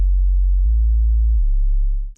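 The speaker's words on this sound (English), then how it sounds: "the second wavetable is the sine wave, which creates the actual bass and the really low sub-frequencies" A synthesizer plays a pure sine-wave sub-bass from a wavetable for an Afro house track, a loud, smooth, deep tone stepping down in pitch twice before cutting off, with no other sounds.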